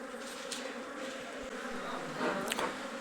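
A large swarm of honey bees buzzes continuously while being moved into a box, a dense, droning hum of many wings with a few individual bees zipping close by.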